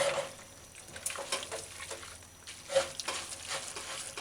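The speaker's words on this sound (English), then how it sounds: "and stir fry the noodles" Lo mein noodles with chicken being stir-fried, with soft scraping, lifting and tossing strokes over a quiet sizzle, in irregular bursts at moderate-to-low volume and without speech.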